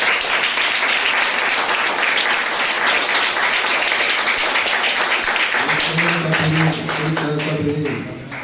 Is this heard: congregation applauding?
yes